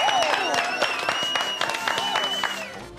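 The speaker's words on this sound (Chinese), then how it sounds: "掌声鼓励。" Studio applause breaks out during a Taiwanese TV cooking show, a steady clatter of clapping lasting about three seconds with talk and musical tones layered over it.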